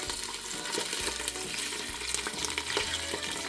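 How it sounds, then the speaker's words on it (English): Sausage browning over low heat in a pan for Italian gravy, a steady soft sizzle running throughout with occasional low knocks and scrapes, close by and with no talking. "While the sausage is browning on low"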